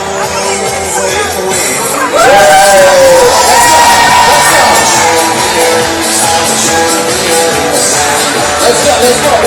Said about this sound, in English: A round of applause, let's go, let's go.